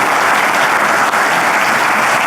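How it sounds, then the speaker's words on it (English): A conference crowd at a Magento developer event gives a loud, sustained round of applause, a thick wash of clapping close by with no speech over it. "So I think a round of applause for those two."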